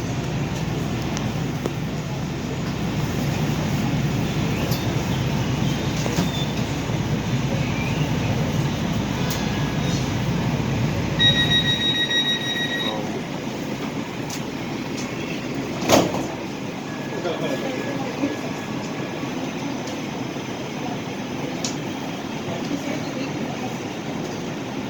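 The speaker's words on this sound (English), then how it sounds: "Please stand clear. The doors are closing." An LA Metro A Line train on opening day of the Regional Connector: a steady rumble of the car, a rising chime tone as the doors close, a thump, then a quieter rolling hum as it pulls away, with an announcement voice heard.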